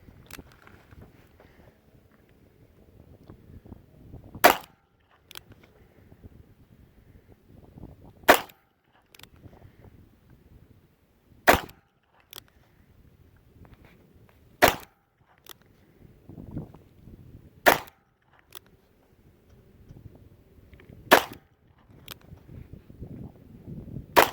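Smith & Wesson 617 .22LR revolver with a 4-inch barrel fires Winchester truncated-cone hollow point rounds outdoors: seven sharp, fairly loud cracks spaced a few seconds apart, separated by quiet shuffling and faint handling noise.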